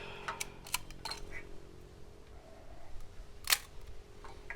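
A Nikon Nikkormat FT2 film camera with a Nikkor 50mm f2 lens fires its mechanical shutter at 1/500, giving a few sharp, close clicks spaced irregularly over a faint steady background hum.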